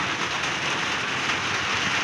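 Steady rain falls on a rainy day at home, a dense, even hiss of drops on surfaces that carries unbroken from start to finish with no voices.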